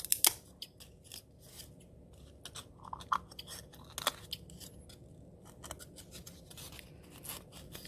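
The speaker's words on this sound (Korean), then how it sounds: "매끈하지 않은 부분은 가위로 다듬어 주도록 합시다" Scissors snip and crunch through stiff material in a quick series of close, sharp cuts, with brief pauses between bursts.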